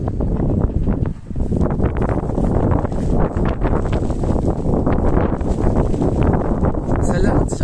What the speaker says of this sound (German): Es ist halt hier nur sehr am Winden gerade und so Sprühregen.